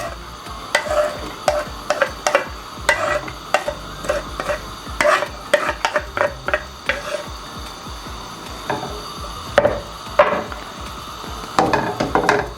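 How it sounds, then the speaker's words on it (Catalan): Chopped onion sautés in butter in a pan over medium-low heat while being stirred, with a soft continuous sizzle and frequent close, irregular scraping and tapping strokes of a wooden utensil. "Llavors, ara el que busquem és que s'enrosseixi la ceba."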